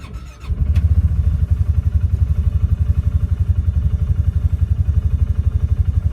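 A Polaris Ranger 570 utility vehicle engine idles steadily outdoors, a loud, even low throbbing pulse that runs continuously after a brief start at the beginning.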